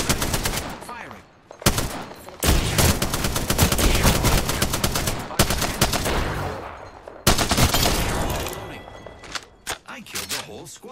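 Bursts of automatic gunfire ring out in the video game Apex Legends, long rapid volleys that stop and restart with short gaps, loud and close against game sounds, with a player speaking now and then.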